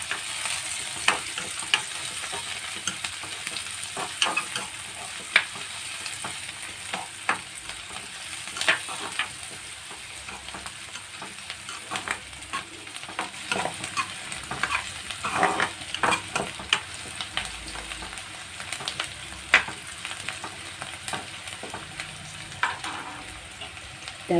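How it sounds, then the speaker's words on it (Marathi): Taykala greens, a wild leafy vegetable, sautéing in a pan, continuous close sizzle with frequent scraping and clicking stirs of a spatula throughout, busy and fairly loud. "त्याचं आपलं परतून घेऊया."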